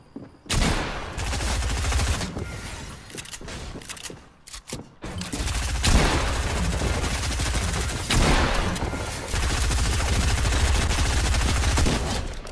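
Loud automatic gunfire in Fortnite, with several dense bursts of rapid shots broken by brief gaps and one short pause near the middle.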